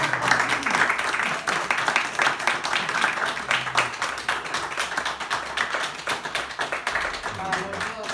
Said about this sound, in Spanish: Pues un aplauso.